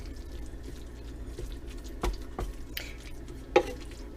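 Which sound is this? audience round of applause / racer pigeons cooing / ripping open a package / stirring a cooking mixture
stirring a cooking mixture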